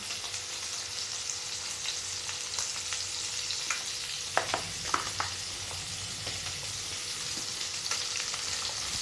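Curry fries over a high flame with chili powder and turmeric, a steady loud sizzle broken by a cluster of sharp spatula scrapes and clicks midway, with no talking.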